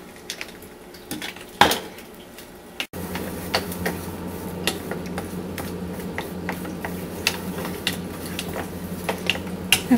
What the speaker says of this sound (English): And I mix with chopsticks, because you don't want the batter mixed too much.